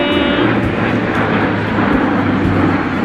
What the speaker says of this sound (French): depuis tout à l'heure, il y a plein d'avions